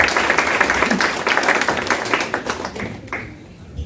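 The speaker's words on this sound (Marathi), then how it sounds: "सरांसाठी परत एकदा टाळ्या वाजवा" An audience at a Pune district junior college ceremony honouring meritorious students and model teachers applauds a teacher, a loud, dense burst of clapping that tapers off to quiet by the end.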